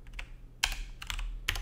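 Computer keyboard typing a terminal command, a few quiet clustered keystrokes with short gaps, close and soft, with no voices.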